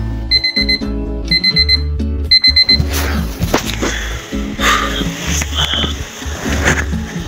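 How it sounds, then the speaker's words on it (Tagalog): A morning alarm clock rings in repeated electronic beeping bursts, loud and close, then gives way to a louder, noisier jumble of other sounds for the rest of the clip. "Kagigising ng nauna natin yung alarm clock."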